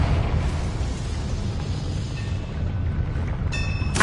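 A Confringo blasting spell goes off in the video game Hogwarts Legacy, a loud, sustained rumbling blast with a deep roar lasting several seconds, ending in a brief bright chime-like magical tone.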